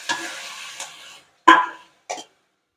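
Tomatoes being stirred into frying onions in a pan for a simple egg dish, giving a sustained scraping, sizzling stir at first, then two short separate bursts of stirring and clatter at close range with no talking.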